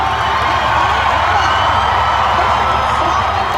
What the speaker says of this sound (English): A well-deserved round of applause and a standing ovation for the son of a digger driver, Ryan Anderson.